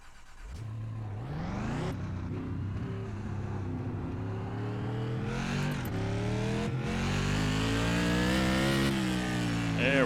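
A race car at the Nashville Fairgrounds oval fires up and revs, its engine note rising repeatedly in loud close sweeps, climbing higher toward the end with no one speaking.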